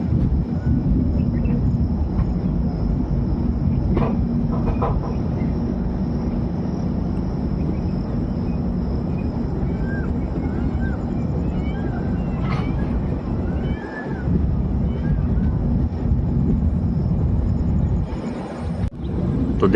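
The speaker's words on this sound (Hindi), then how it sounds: "तो ट्रेन मेन लाइन से लूप लाइन पर जा रही है" Inside the 18574 Bhagat Ki Kothi–Visakhapatnam Express, a passenger train crossing from the main line onto a loop line. A steady, close rumble continues throughout, with occasional faint squeals and clanks from wheels over the points.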